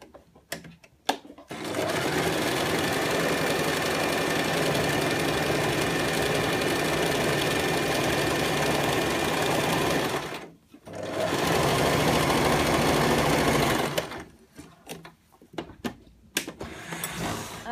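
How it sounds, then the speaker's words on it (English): A sewing machine runs a zigzag stitch along a skirt's raw edges, a fast steady mechanical whir in two long close bursts with a short pause between, then stops amid a few clicks. "change to a zigzag stitch and then secure"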